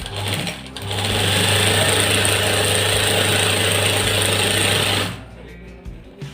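A sewing machine stitches shirt cuffs with a loud, close mechanical whirring that starts after a brief pause, runs steadily for about four seconds, then stops abruptly, leaving near silence.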